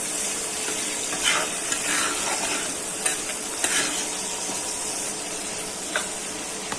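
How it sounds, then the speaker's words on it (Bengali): Chopped onions fry in a hot kadai for a pabda fish dopiaza, a continuous loud sizzle broken by occasional scrapes and taps of the stirring spoon. "নেড়ে চেড়ে পেঁয়াজটা ভাজা হয়ে যায়।"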